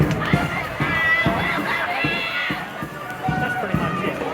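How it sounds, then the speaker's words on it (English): An outdoor protest crowd in the rain at a Portland ICE protest, Oct 12, 2025: steady, close hubbub of many voices with regular footfall-like thumps and scattered shouts. "This is the crowd today."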